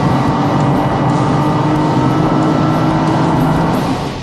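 A stock Nissan GT-R at about 120 mph heading into a track corner, its engine and road roar loud and close in a steady unbroken drone for the whole stretch, easing off slightly at the very end.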